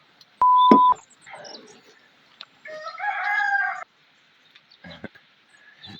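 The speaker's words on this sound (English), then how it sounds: "That's Catherine, my rooster." A rooster crows once nearby, a loud drawn-out call, followed by softer clucks and scattered small noises, with quiet gaps between.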